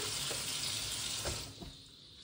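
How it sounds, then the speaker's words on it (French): Mirabelle plums are rinsed under a running kitchen tap, a steady close hiss of water with soft splashes and small knocks, easing off toward the end. "Je les rince, comme vous pouvez voir."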